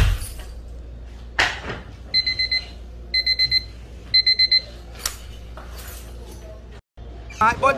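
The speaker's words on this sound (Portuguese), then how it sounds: "Botou até o som de alarme outro." An alarm sound effect played from a sound system: repeated bursts of bright electronic beeps in quick groups of four, between sharp clicks and knocks, with faint voices nearby.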